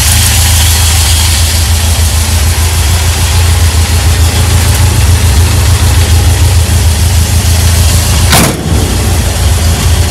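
A restored 1965 VW Beetle engine idles steadily nearby, a loud continuous low rumble with a brief clunk near the end, no voices.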